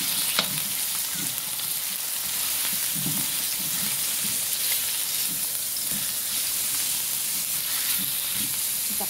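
Pork frying in olive oil in a pan sizzles steadily with a constant bright hiss and occasional soft crackles, heard up close and alone.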